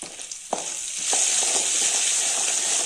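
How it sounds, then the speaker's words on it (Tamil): Spices fry in hot oil in a pan for lemon rice, a steady bright sizzle that swells and holds loud throughout, with a few soft stirring knocks near the start. "இப்போ நம்ம இது எல்லாமே நல்லா எண்ணெயில் நல்லா போட்டு பொரிஞ்சு வந்துருச்சுங்க"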